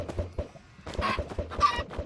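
Chickens clucking in the video game Minecraft, a run of short, close clucks and squawks in quick irregular bursts, loud and alone with no talking.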